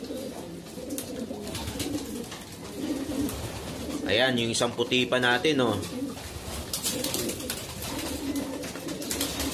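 Racing pigeons coo in soft, throaty bursts for a couple of seconds mid-clip, with someone talking casually over steady background noise.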